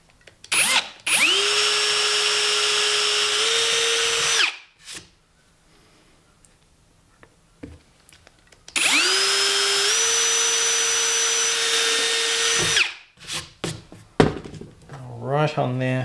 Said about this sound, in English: we're just going to drill a 3mm hole.